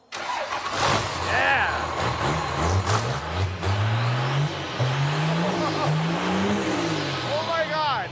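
Diesel-swapped Ford Torino wagon drag car cranks and fires, its engine roaring and revving in rising and falling pulls, loud and close, while people shout and talk excitedly over it.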